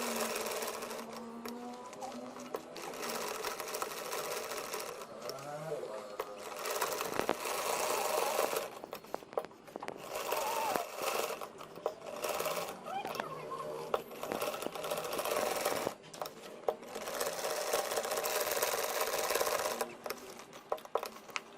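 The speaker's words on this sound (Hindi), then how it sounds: "अब हम पैच पर सिलाई लगाएंगे।" A sewing machine stitching a patch onto a trouser hem runs in bursts of fast, rhythmic whirring and clattering, pausing briefly between runs, close and fairly quiet throughout.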